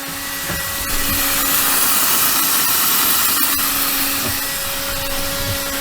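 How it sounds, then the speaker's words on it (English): Loud, steady hiss of air rushing out of a leak at an RV toilet, broadband and constant, with a faint hum and small knocks underneath. "I hear a pretty significant leak at the commode"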